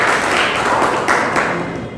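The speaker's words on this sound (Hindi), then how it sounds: "जोरदार तालियां दीजिए।" An audience at a school road-safety quiz competition breaks into steady applause, a dense wash of clapping from a roomful of people with a couple of louder claps near the end.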